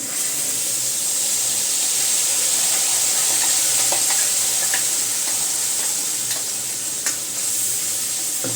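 Freshly ground masala added to browned onions frying in a pan, a dense constant sizzle and hiss with light intermittent stirring clicks, no voices.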